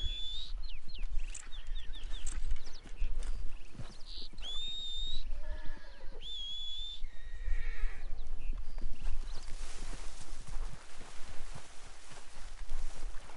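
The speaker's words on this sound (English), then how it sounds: "See if my horse will come over here and get me." A horse approaches with steady clip-clopping hooves and a whinny, close by, alongside high chirping bird calls and an outdoor ambience.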